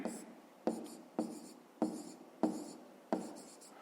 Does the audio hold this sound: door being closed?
no